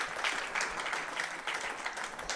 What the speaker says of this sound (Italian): L'applauso meritato per Lorenzo Zerbato al minuto 39